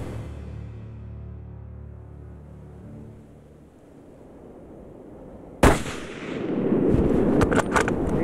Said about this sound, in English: here comes a shot